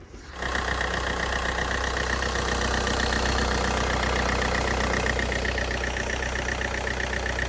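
An engine, wired directly to the battery with a jump lead, turns over on the starter and quickly catches, then settles into a loud, steady idle with a slightly rough, knocking edge.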